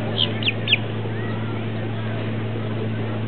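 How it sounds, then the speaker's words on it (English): Seagulls give three quick, thin calls close by over a steady low engine drone, likely on a boat, with a faint cry trailing off afterward. "Birds."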